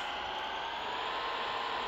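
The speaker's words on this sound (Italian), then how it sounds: "Accendiamo motore." A Scania Citywide bus engine in Proton Bus Simulator 2020 runs with a steady mid-pitched hum and faint whine, a brief continuous drone close by with no talk.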